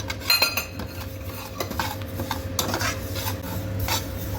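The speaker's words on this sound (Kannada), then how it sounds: "ಇದನ್ನು ಇವಾಗ ಜೀರಿಗೆ ಹಾಕುತ್ತಾ ಇದ್ದೀನಿ ಜೀರಿಗೆನೂ ಪರಿಮಳ ಬರೋವರೆಗೂ ಹುರಿಬೇಕು" Cumin seeds dry roasting in a pan while being stirred, with steady scraping and rattling of a utensil against metal over a constant low hum, close up.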